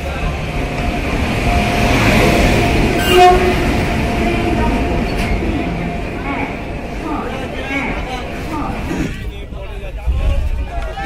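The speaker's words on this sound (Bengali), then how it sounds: "দেখুন ট্রেন ঢুকছে আমাদের, কিন্তু রামপুরহাট এক্সপ্রেস মানে মা তারা এক্সপ্রেস ঢুকছে।" A Rampurhat Express (Maa Tara Express) train pulls into a busy station, a loud rumbling roll of wheels with a horn blast and crowd babble around it.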